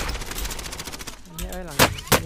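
Rapid automatic gunfire from an assault rifle in Call of Duty Warzone rattles in a fast burst, followed by two loud separate shots, with a player's voice talking between them.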